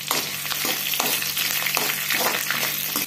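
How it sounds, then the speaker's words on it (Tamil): Peanuts frying in hot oil give a steady, close sizzle with light stirring scrapes, no voices. "இதை எண்ணெயில் 1 நிமிஷம் நல்லா வறுபடுத்தும்"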